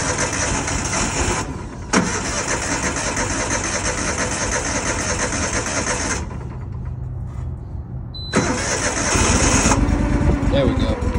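A choked engine at an airport equipment auction cranks and catches, then runs at a steady, close idle that cuts out briefly and picks up again, with a person talking nearby.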